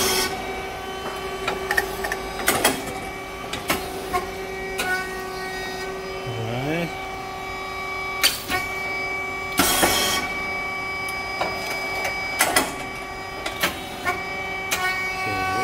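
Rice cake machine SYP5310T with triangle-shaped, coated moulds running, a steady mechanical hum with tonal whine and repeated sharp bangs and hisses at irregular intervals.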